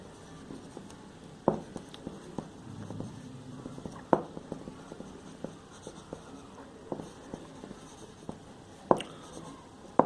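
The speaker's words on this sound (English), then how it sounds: "Let us start to construct or draw a isometric view of a circle." A pencil draws an isometric circle on paper: quiet scratching strokes with scattered light taps.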